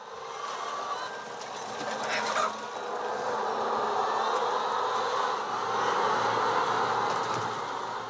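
Thousands of hens cluck together inside a large commercial poultry building housing about 20,000 birds, a dense, continuous wall of overlapping calls filling the space at steady loudness with no talk.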